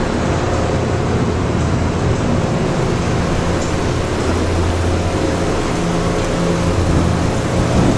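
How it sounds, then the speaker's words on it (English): A thunderstorm with steady, dense rain hissing close by and low, rumbling thunder rolling underneath, constant and loud throughout with no voices. "The approaching storm may seem violent and destructive to us"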